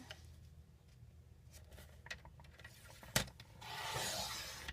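A paper trimmer slices a sheet of cardstock in one steady rasping pass near the end, after a sharp click of the blade; quiet handling and rubbing of the paper come before it.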